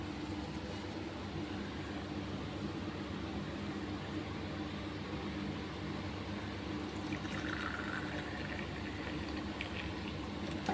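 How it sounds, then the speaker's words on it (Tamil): Lemon tea is poured out for drinking, a steady liquid rush with a constant hiss and bubbling that carries on without pause for several seconds, fairly quiet and close with no talking. "நம்ம குடிக்கிறதுக்கு எடுத்து ஊற்றிக்கலாம்"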